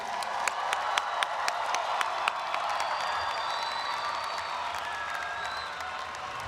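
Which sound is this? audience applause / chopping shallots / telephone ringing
audience applause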